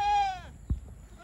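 A young goat kid on a small farm gives one clear, wavering bleat close by, followed by a soft thump and quiet.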